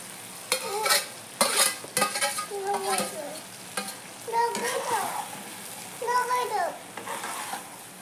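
Okra tipped into a hot pan for a Bengali mustard-okra dish and stirred, with sizzling frying and scraping stirs coming in bursts, close and moderately loud, alongside brief stretches of voice.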